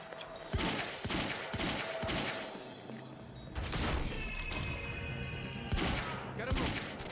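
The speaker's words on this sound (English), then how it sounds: "He's got a gun! Open fire!" Sustained gunfire in the video game Quantum Break: rapid bursts of shots and sharp cracks that overlap into a dense, loud fusillade lasting several seconds, with occasional impact sounds.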